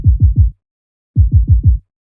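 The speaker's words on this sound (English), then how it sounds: "it's a sample that I created using a MIDI kick" Kick drum sample built from a MIDI kick run through an auto filter, heard as a group of three punchy low thumps, a short gap, then four more in steady rhythm, alone and dry.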